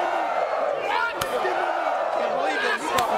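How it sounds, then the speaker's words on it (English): Sharp open-hand chops from a wrestler landing on an opponent's chest at a 2004 WWE tag-team match, two loud cracking slaps spaced about two seconds apart over constant arena crowd noise and commentary talk. "Slobber knocking shots by Jericho on Flair's chest"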